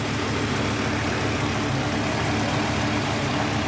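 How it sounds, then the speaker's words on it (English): A Volvo 850 T5 engine idles steadily up close, a constant even hum with broadband mechanical noise and no talking. "now the engine's getting a little warm."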